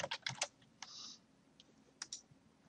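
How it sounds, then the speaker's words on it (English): Keys clack in quick bursts on a computer keyboard as a name is typed into a Microsoft Word document properties field, with a few short pauses between groups of strokes. "I click in that field and write Susan Jones"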